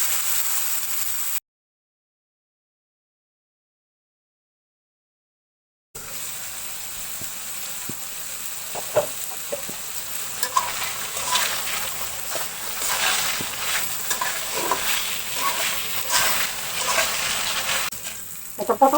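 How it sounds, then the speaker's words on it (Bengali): Pointed gourd coated in chilli, turmeric, salt and coriander powder frying in a wok, a steady close sizzle with stirring scrapes, after a brief silent gap near the start. "এখন আমি পটলটা ভাজবো।"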